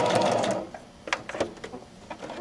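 A sewing machine stitches in short bursts while the fabric is pivoted, with a steady run of close mechanical chatter followed by brief stop-start stitching and clicks.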